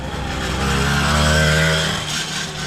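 A custom-built motorcycle engine revs with a coarse, tractor-like rumble, rising and then easing off in one steady swell, heard close and without talk.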